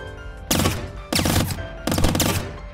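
Three loud bursts of rapid gunfire from the video game Squirrel with a Gun, each lasting about half a second and spaced roughly evenly apart, over a low game background.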